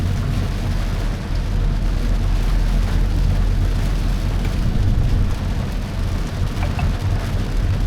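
Steady rain and road noise fill a car interior during a drive, a dense, continuous wash with a low engine rumble underneath, fairly loud and unbroken throughout.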